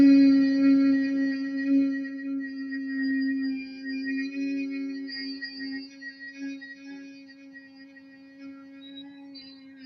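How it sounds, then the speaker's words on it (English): A steady closed-lip Om hum held as one sustained low drone with a rich upper harmonic buzz, wavering slightly as the breath runs out over about ten seconds, close and fairly quiet with no talk. "you make the sound of Om, but through closed lips and closed back molars"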